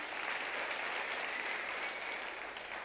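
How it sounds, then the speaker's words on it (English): Applause from the audience at an autumn university graduation ceremony at the University of South Africa, steady, dense clapping from a large crowd heard from some distance, even in level throughout. "I think they deserve a round of applause"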